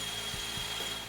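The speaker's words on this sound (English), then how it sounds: "Drill them out" A power drill bores holes through a MetalCloak Under Armor transfer case skid plate, cross member and driver-side frame rail on a Jeep. It makes a steady, fairly quiet mechanical whir with a few short low thumps.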